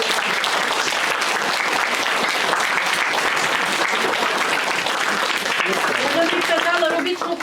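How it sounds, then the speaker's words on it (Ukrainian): Sustained, loud applause from a theatre audience after a children's play of Snow White and the Seven Dwarfs, dense and steady, with a voice emerging near the end. "Тож ще раз оплески і дякуємо."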